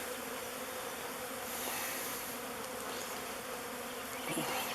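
A honeybee swarm pours into a log hive, a dense, steady buzzing hum from many bees close by that holds at one level throughout, with no voices.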